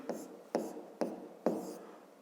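Pen writing on paper with four short scratchy strokes in an even rhythm, close and quiet.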